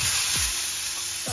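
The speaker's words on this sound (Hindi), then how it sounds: "अब मैं थोड़े से प्याज डालूंगी एकदम गरम तेल में" Onions dropped into very hot oil in a home kitchen pan, giving a loud, steady close-up sizzle and hiss with a few brief stirring scrapes and no talk.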